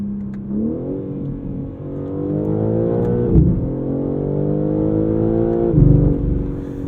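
A BMW M3 Competition xDrive's twin-turbo inline six pulls hard through the gears, a loud rising engine drone climbing in pitch with two brief shift breaks before surging again, heard close from inside the cabin.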